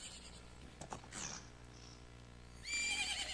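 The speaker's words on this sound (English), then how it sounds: "And there's our horse." A horse in The Legend of Zelda: Majora's Mask gives a short whinny near the middle, followed by a brighter burst of game sound effects toward the end.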